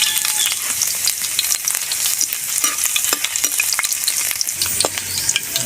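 Garlic sautés in a hot pan for a Filipino pansit miki guisado, a steady loud sizzle and frying hiss with occasional scrapes of a stirring utensil.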